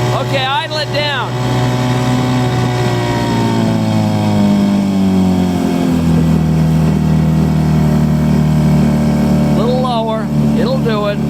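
A fishing boat's engine idles low and steady throughout, a continuous near drone with a slowly falling tone, while someone speaks briefly at the start and again near the end.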